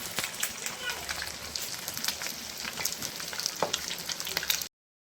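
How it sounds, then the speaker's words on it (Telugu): Egg pakoda batter fries in hot oil with a dense, continuous crackling sizzle, bright popping throughout, that stops abruptly. "బాగా వేడెక్కిన ఆయిల్ అయితే వేసుకోవాలి"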